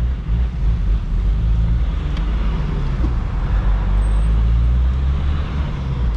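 Diesel engine of a chipped VW Amarok 2.0 pickup with a straight exhaust, a loud, steady low rumble that holds close and continuous with no pause.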